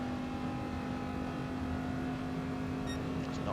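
A Corvette and a Porsche Gr3 race car howl up the back straight at Suzuka in a racing game, with a steady, loud engine drone at high revs held throughout and a brief higher whine near the end.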